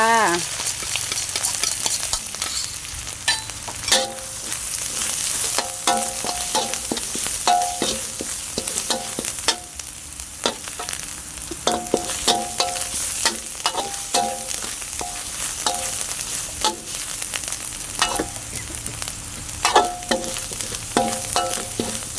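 Stir-fry for Thai basil stir-fry (pad kaprao) sizzles and crackles in a hot wok while a utensil scrapes and clanks repeatedly against the metal, close and continuous.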